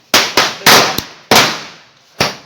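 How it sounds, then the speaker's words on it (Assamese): A packet of firecrackers bursts during Diwali: five sharp, loud bangs at uneven intervals, each with a brief decaying tail, close to the listener. "আমাৰ লাষ্ট বোমা আগ পেকেট জ্বালা বোমা আছে"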